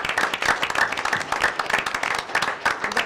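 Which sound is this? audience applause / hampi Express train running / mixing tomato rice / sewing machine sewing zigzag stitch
audience applause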